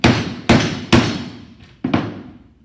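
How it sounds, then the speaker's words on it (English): A hammer strikes the edge of a diamond knockout four times, sharp metallic bangs with ringing decay; three come in quick succession, then a pause before the last. "take my hammer, and hit the edge of the diamond"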